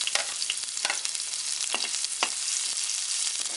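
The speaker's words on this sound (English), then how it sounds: "When onion started frying," Chopped onion frying in hot oil with cumin seeds, a continuous loud sizzle with crackling spits and occasional stirring scrapes, heard close and with no talking.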